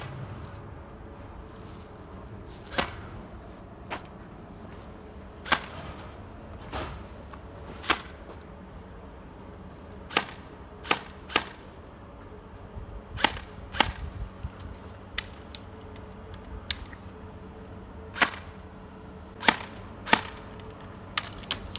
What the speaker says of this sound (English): now we're firing a really heavy BB really slowly